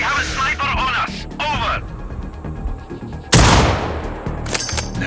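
Sniper rifle fire in Sniper Ghost Warrior Contracts 2: one sharp, loud shot cracks out near the middle and another follows near the end, with game radio voices talking over the earlier part.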